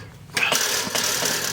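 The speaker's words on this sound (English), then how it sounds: "I drilled a pretty deep hole." A drill boring a deep hole into wood for a live-edge chicken coop, a steady whirring grind that starts abruptly and runs close and loud with slight pulsing.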